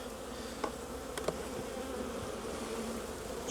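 Honey bees drone in a steady, close hum during a rainy-day hive inspection, with a few brief knocks and clicks from handling the hive boxes.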